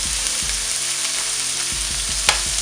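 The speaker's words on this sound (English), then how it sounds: "you want to make sure you really brown your oxtails" Oxtail pieces brown in a hot pan, a dense continuous sizzle close up, broken by light scraping and stirring knocks and one sharp click near the end.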